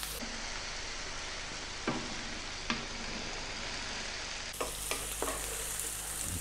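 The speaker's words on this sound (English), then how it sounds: "We're gonna get the zucchini or courgette back in. And again, another 3 minutes on this nice, fairly gentle heat." Zucchini (courgette) frying in a pan over gentle heat gives a continuous close sizzle, with a few soft stirring knocks and a slight change in tone partway through.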